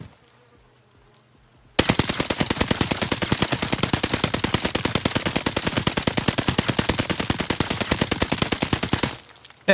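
An Owen gun fires in Warzone Pacific, a loud rapid automatic burst of evenly spaced shots lasting about seven seconds after a quiet start, then cutting off abruptly.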